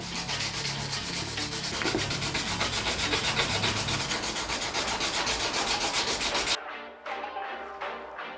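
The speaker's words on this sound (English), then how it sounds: "we have to fix by hand this place, which we'll do by sanding it with some 200 grit sandpaper" Hand sanding a thin layer of body putty on a rust-repaired Mercedes tow truck panel with 200 grit sandpaper: fast, rhythmic rasping strokes, close and continuous for several seconds before stopping abruptly, followed by lighter scuffing.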